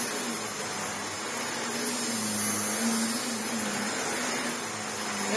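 Shark NV601UK vacuum cleaner running, a steady airy whoosh with a constant motor hum that stays even and moderately loud throughout, with no talking.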